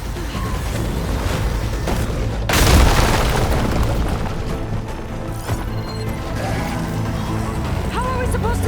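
Heavy booms and a crashing blast from a hostile machine opening fire in the Burning Shores area of the video game Horizon Forbidden West, loud and dense, with mechanical whirring, clanks and game effects throughout and a voice speaking over it.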